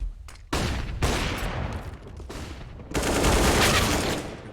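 Rapid gunfire crackles through a professional CS:GO match, overlapping bursts of shots in close succession, loud and sustained with a sharp surge near the end, with no voices.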